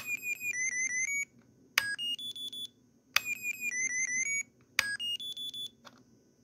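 Short electronic beep melodies from a Jumper T12 Pro radio transmitter switch chirp twice, each a quick run of rising tones followed by a brief pause, clear and close over faint background hiss.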